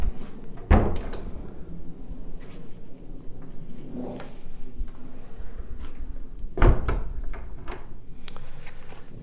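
Doors of a very large antique pine wardrobe with external hinges are swung open, giving two sharp wooden knocks and thuds several seconds apart amid faint creaks and handling rustles in a quiet room.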